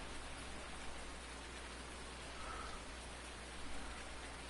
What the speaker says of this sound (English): Oh, it is raining on me.